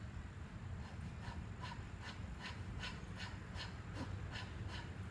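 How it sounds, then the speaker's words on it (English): Rhythmic heavy panting during a breathing exercise, about a dozen quick breaths pushed out in a steady pulse over a low background hum. "when we do this heavy breathing, it's going to like this."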